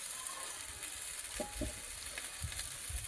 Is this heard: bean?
yes